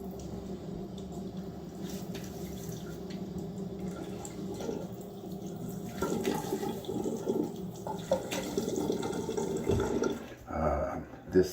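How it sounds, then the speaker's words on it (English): Running water from a tap with splashing and wet slaps close by, growing busier toward the end as water is scooped and splashed. "Splash my face with some water."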